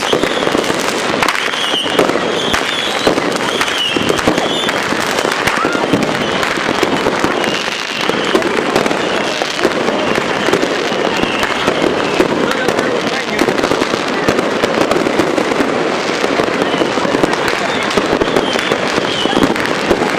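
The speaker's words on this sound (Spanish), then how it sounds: "la celebración con fuegos artificiales es mucho mayor que en los barrios más pitucos" Fireworks and firecrackers over Lima, Peru, on New Year's Eve crackle and pop continuously from many directions, a dense, loud, unbroken barrage of distant and nearer bursts with a person speaking over it.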